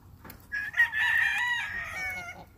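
A Peaks Butcher brood cock crows once, a clear, close cock-a-doodle-doo rising and held for over a second before trailing off, with faint background noise.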